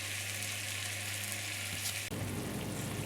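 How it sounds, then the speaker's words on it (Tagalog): Pork simmering in a pan for pancit bato guisado gives off a steady, close frying sizzle with dense crackle that grows rougher and louder in the last second, with no voices over it. "Kaya natin sinisimmer para lumambot yung pork na nilagay natin."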